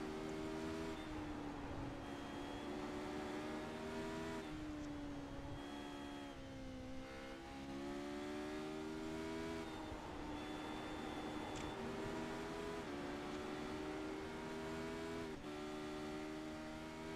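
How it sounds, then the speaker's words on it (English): A V8 race car in the iRacing sim roars steadily, shifting up through the gears with rising pitch sweeps and brief dips between shifts, loud and continuous with no voices. "We're going to turn up that beautiful V8 noise."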